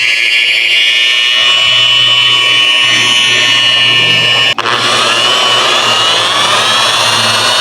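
Rotary polisher set around 1800 rpm buffing rough orange-peel car clearcoat, a loud steady high-pitched whine with a brief dropout midway before resuming, running alone.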